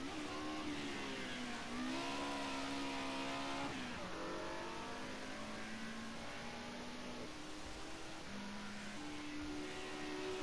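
BMW M3 Group A race car in a racing game at Rouen Les Essarts, its engine revving steadily and loud throughout, pitch climbing and dropping with gear changes.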